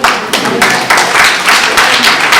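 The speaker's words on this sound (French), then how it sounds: "Félicitations, Mapita Cissé, qu'on peut applaudir" Loud, dense applause from a conference audience in Rufisque, Senegal, clapping for an event organizer. The clapping rolls on steadily and close for the whole stretch, with no voices above it.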